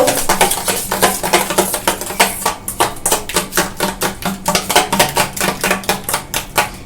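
Filling for chicken bread rolls is mixed hard in a bowl, a fast, even run of sharp clinks and scrapes as a utensil strikes the bowl, close and loud throughout.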